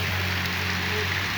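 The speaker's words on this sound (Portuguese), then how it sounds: "Que grande chuva, aí, ó." Heavy, thick rain pours steadily on a rural farmstead in Jucás, Ceará, in northeastern Brazil, a dense continuous hiss with a low drone beneath and no voices.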